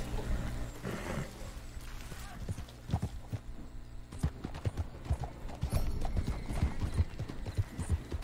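Horse hooves clip-clop steadily in Red Dead Redemption 2, a close rhythmic walking gait with occasional soft snorts and a low ambient hum beneath.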